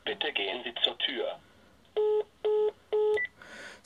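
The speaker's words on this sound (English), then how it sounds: "I press the bell knob, I get a signal, and my phone is ringing." A smartphone rings after a doorbell button is pressed, with three evenly spaced electronic tone bursts that follow a stretch of nearby talking.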